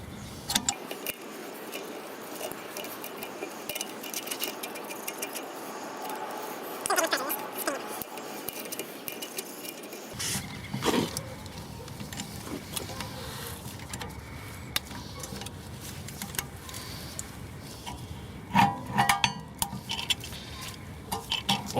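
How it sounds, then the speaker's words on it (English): Metal tool clicks and scrapes while rear brake caliper piston on a 2006 VW Jetta TDI is wound back, a steady series of small close ratcheting and grinding sounds. "the trick is just to kind of spin it in evenly, and the piston will collapse back in there."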